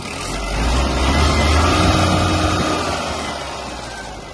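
A Mitsubishi MT-246 Japanese mini tractor engine revs up, its steady drone swelling louder for a couple of seconds and then easing back down.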